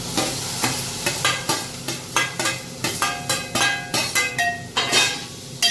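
Boiled kantola, a wild monsoon vegetable, being stir-fried in a pan, with a quick regular run of loud metallic spatula clacks and scrapes over a light sizzle, close and without speech.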